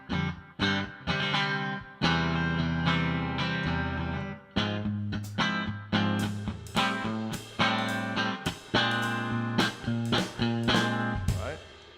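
Electric guitar played through a Fender Super Reverb amp, loud and close with distorted, driven tone, rhythmic chord stabs and riffs with short pauses, no talking.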